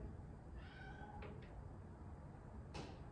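Indoor cat yelling for a bird outside, a few quiet drawn-out meows and short cries heard at a distance over a steady background hiss.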